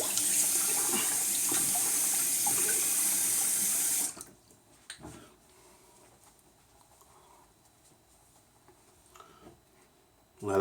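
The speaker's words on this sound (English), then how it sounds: "All right, I'm going to rinse." Tap water runs steadily into a sink for about four seconds while a shaver rinses during a Rockwell 6S safety-razor shave with homemade sandalwood soap, then cuts off abruptly, leaving a quiet room with faint handling sounds.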